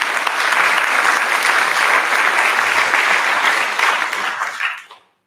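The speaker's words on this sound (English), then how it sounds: "Can I have a round of applause for them again," Loud, steady audience applause for a children's choir from a junior school at a Holocaust Memorial Day event, sustained and dense before quickly dying away at the end.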